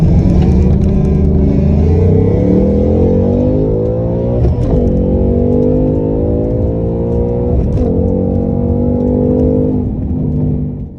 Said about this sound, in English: We're going to launch it in drag mode again.